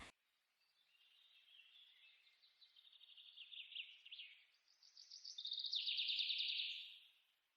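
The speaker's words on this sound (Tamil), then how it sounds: "பறவைகளின் கீச் கீச் சத்தத்துடன் சூழ்ந்திருந்தன" Birds chirp and trill in a forest in long, rising and falling phrases, fairly faint and distant, with no other sounds around them.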